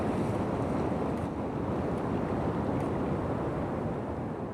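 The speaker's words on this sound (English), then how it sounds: "I'm trying to time it at the moment for the waves breaking over the rocks out in front of me as they splash over." Sea waves break over rocks on the Anglesey coast, a dense, steady roar of surf mixed with wind buffeting the microphone, with no pauses throughout.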